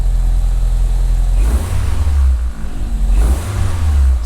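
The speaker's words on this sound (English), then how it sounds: "Revs so nice with that lightweight flywheel on." A Toyota Starlet Glanza engine fitted with a lightweight flywheel and a cheap aftermarket exhaust idles with a low rumble, then rises in two quick revs, each climbing and falling back, close and fairly loud.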